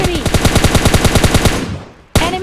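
Rapid automatic fire from a WM rifle in PUBG Mobile Lite rattles loud and close in a fast burst, fading out before one more sharp shot cracks.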